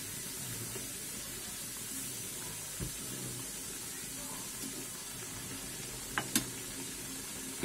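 Bajra til tikki, millet-flour patties with sesame, frying in a pan: steady soft sizzle and hiss throughout, with a few faint clinks and scrapes of a spatula near the end.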